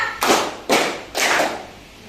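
Three loud, evenly spaced hand claps in a classroom clapping game, each one sharp and close, separated by brief pauses.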